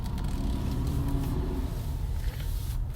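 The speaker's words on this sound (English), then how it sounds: "Fucking dump truck." A heavy dump truck rolls past outdoors with a steady, loud low engine rumble and road noise through the whole stretch, with no talking over it.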